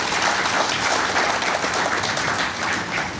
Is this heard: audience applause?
yes